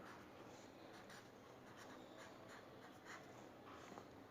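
Marker or chalk writing on a classroom board during a Hindi-language English lesson, a steady scratchy stroking texture that runs continuously at a moderate, somewhat distant level with no talk over it.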